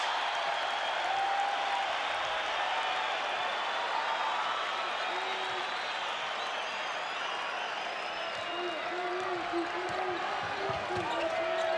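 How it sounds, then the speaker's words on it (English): Dense crowd in a basketball arena roars and cheers steadily for the Santa Clara Broncos during a 1993 NCAA West Regional first-round game, a broad wash of noise with the bounce of a ball faintly beneath. "And the crowd is right behind the Broncos."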